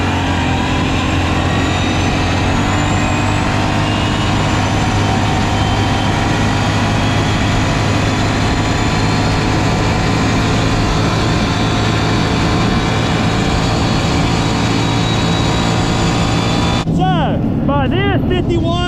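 A Kawasaki 650 mud build engine pulls hard from a takeoff, a loud, steady drone of engine and drivetrain noise sustained throughout, ending abruptly near the close.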